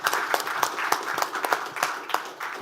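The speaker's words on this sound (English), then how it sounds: "So a big round of applause for all the participants and all the teams" A small audience claps irregularly at a medical simulation competition, a moderately loud patter of overlapping hand claps that continues steadily throughout.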